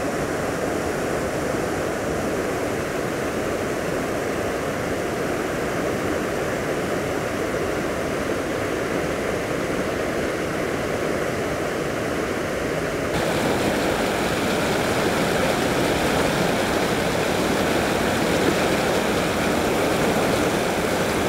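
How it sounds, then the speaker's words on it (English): White water of the Afon Glaslyn rushes over rocks in the Aberglaslyn Pass, a dense, steady roar of flowing water close by with no voices, holding constant for the whole stretch. "there's some really lovely rocks with the water flowing over them"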